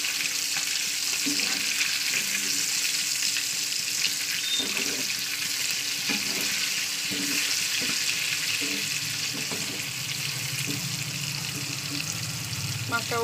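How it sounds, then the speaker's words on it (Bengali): Pieces of katla fish frying in a pan and being flipped, giving a constant bright sizzle with scattered clinks and scrapes of the turner against the pan, heard close up. "তো চলুন মাছটাকে এবার উল্টে দিই। মাছটা হয়ে এসছে।"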